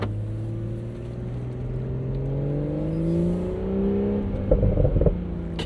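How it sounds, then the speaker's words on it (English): A 2023 BMW Z4 M40i cruising on the road, with a steady engine drone that swells gently, then a short cluster of exhaust pops and burbles near the end, heard from inside the car without voices. "the pops and burbles that you get out of this thing"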